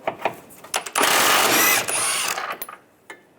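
A 21mm socket and tool work loose the bolts between the control arm and cradle on a 1998-2010 Volkswagen Beetle: a loud burst of mechanical whirring lasting about a second, framed by scattered clicks and knocks nearby.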